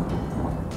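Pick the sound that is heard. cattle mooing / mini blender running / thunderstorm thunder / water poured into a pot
thunderstorm thunder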